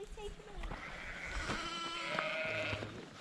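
Baby lambs bleat in short, wavering cries from close by among a flock of sheep at a farm gate, with wind and background noise throughout and a person talking softly at times.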